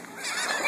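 Seagulls squabble while feeding on dead fish on a beach at Anna Maria Island. A single loud, drawn-out honking cry sounds close by.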